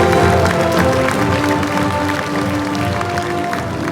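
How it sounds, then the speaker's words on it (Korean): Audience at a political constituency report meeting claps together, a loud, dense and sustained round of applause filling the hall with a faint crowd murmur beneath. "오늘 이 자리에 함께 해주신 모든 분들께 서로를 향한 힘찬 박수"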